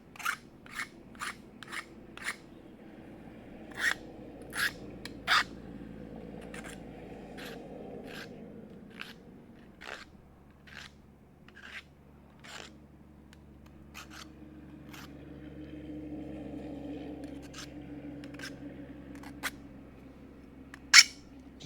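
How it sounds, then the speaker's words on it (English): A hand file scraping a burr off freshly cut metal during a Charger restoration, with a steady run of short, crisp rasping strokes, close and fairly quiet, then sparser strokes over a low background hum. "Just getting the burr off."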